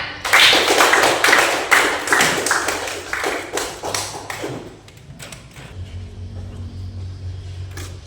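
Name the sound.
class clapping hands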